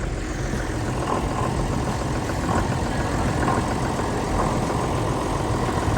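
A cold tractor engine idles steadily at close range, a rough, continuous diesel rumble with a slightly uneven beat and no voices over it.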